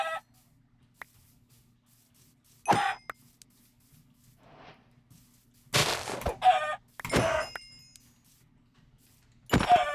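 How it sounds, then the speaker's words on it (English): In a hardcore survival video game, a chicken gives a few scattered clucks and squawks in short bursts, separated by quiet gaps, with no talk. "Chicken."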